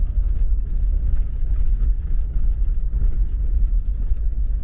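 A Toyota FJ40 creeping slowly over a rocky road, its engine a steady low rumble with continuous rough, crunching road noise close by and no talking.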